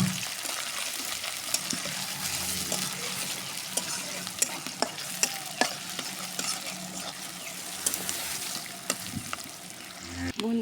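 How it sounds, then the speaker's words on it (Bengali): Chopped onion and green chili frying in oil in a pan, a steady soft sizzle with repeated sharp scrapes and taps of a stirring spoon, close and alone. "পেঁয়াজ কুচি, কাঁচামরিচ, সুন্দর করে আগে আমরা তেলানিটা করে নেব।"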